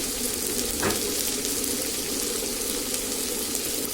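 Food fries in a pan with turmeric and salt, giving a dense, continuous sizzle. It is close and even, with one brief clink near the start and no talking.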